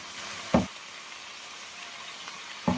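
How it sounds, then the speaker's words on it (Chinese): Diced cucumber and onion are stir-fried in a pan: a soft, steady sizzle runs throughout, broken by two short clattering bursts of the spatula tossing the vegetables. "接着把我们切好的黄瓜丁加进来，还有洋葱丁一块给它放进来，然后快速给它翻炒均匀"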